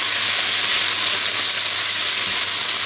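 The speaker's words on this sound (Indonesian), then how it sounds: "Cuma numis sayur" Vegetables stir-fry in a pan with a loud, steady, continuous sizzle and no talking.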